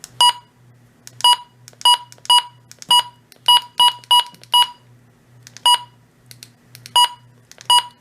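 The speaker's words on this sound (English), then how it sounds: "the button beeps here on the version 16 sound similar to the button beeps on the WR100 and WR300" Button beeps on a Midland HH54 version 16 weather radio: short, sharp electronic beeps at an uneven rhythm, about twenty in eight seconds, each clear and close with quiet gaps between.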